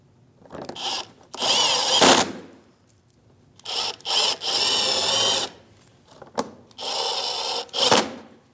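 A power tool drives 7mm-socket bolts on a 2016-2025 Chevrolet Malibu daytime running lamp assembly, three loud whirring bursts of about a second each, separated by short pauses and light clicks, close and alone.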